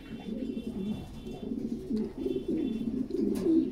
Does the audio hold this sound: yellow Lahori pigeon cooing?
yes